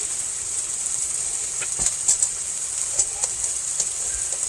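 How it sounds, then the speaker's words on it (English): Chicken frying in a pan gives a steady close sizzle with scattered small pops and crackles throughout, no voices over it. "This chicken's about done in my pan."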